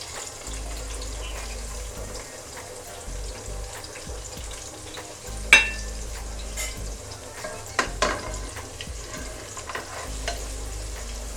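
Onions sizzle as they fry in hot soybean oil in a pan, with a steady low crackle, occasional louder pops and clinks of a utensil around the middle, and no talking.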